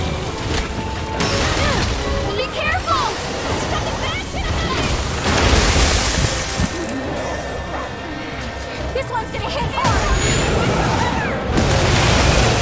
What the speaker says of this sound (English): Your explosion means nothing to me.